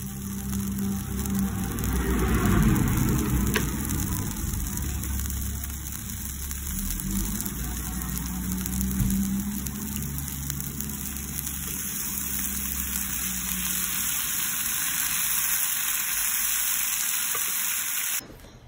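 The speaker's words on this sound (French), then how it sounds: "Puis on fait bien dorer des deux côtés" Birria tacos sizzling in a pan as they brown on both sides, a loud, close, steady crackle and hiss holding for the whole stretch beneath a low hum, then cutting off abruptly at the end.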